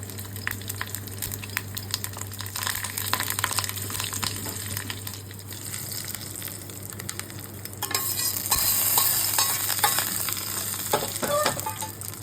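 Dried chilli, curry leaves, mustard seeds and hing sizzle and crackle in hot oil, a continuous close frying hiss with scattered popping that grows brighter and busier toward the end, with a stirring clatter now and then.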